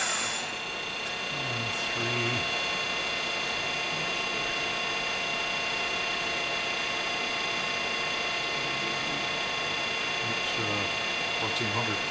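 A Willis-Bergo radial drill with a 4-foot arm and 12-inch column runs steadily at 1400 speed, giving a continuous mechanical whir with gear and ratchet-like clatter throughout, fairly loud and close, with no one talking.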